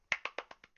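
A handful of hand claps offered as congratulations to a first-place tournament winner, about six sharp, evenly spaced claps fading slightly, quiet and close, with no talking.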